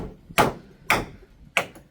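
Three sharp, evenly spaced hammer blows drive nails into a zinc roofing sheet, each strike a loud metallic crack with a quick decay, close by and without talk.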